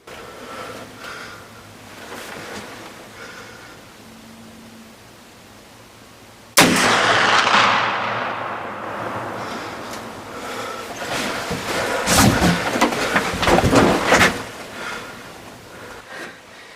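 A muzzleloader rifle fires at a deer in a harvested cornfield at last light, one sudden loud boom after a quiet stretch, its roar trailing off into rustling and breathing.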